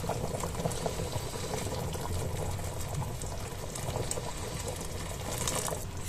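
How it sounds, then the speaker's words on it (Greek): Hot water pours into a pot over beef and tomato paste as a stew begins, giving a steady, soft rushing and bubbling splash that continues evenly throughout. "θα καλύψουμε με ζεστό νερό"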